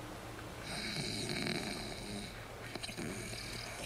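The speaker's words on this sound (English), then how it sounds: "Hear that? It's me snoring." Steady, low snoring close by, droning continuously with no talk.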